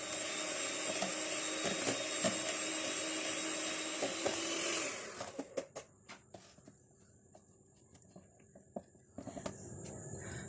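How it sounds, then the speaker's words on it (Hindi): An electric beater whirs steadily through 100 g of butter for a banana loaf cake for about five seconds, then stops, leaving light taps and clicks of the bowl and utensils. "इस मक्खन को सबसे पहले बीट कर लेते हैं।"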